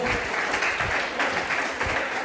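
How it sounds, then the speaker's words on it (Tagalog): A church congregation claps in lively applause for the Lord during a Sunday service, a dense, continuous burst of hand claps lasting a couple of seconds. "Isang buhay na palakpak para sa ating mga Panginoon."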